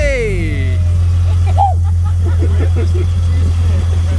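A retro BMW car engine runs with a steady, loud low drone while people talk excitedly over it.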